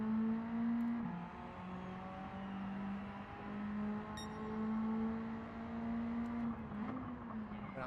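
A Group A race car's engine plays in Gran Turismo 7 at Bathurst. It hums faintly and steadily, and its pitch drops and climbs again with several gear changes across the run.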